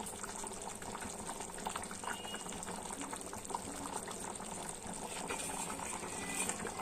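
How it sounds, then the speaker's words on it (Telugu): A small fish curry in the Nellore style bubbles in a pot, a steady, fairly soft simmering hiss with liquid burbles that runs unbroken throughout, with no voices over it. "చూడండి, ఇలా ఉడికించుకుందాం."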